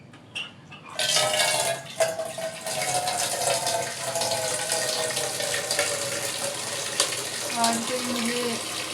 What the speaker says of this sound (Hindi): तो यहाँ पे मैं पानी भरूंगी।